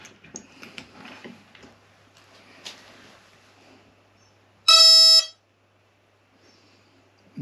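Electronic beep from the speed controller of an RC Depron warbird plane, a single loud steady tone lasting about half a second amid quiet workshop handling noises.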